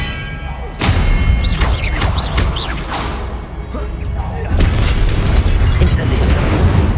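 A spell cast in the Hogwarts Legacy video game: a sudden booming thud opens a dense stretch of magical whooshes and crackling impacts, with a second loud surge later on, all loud and close.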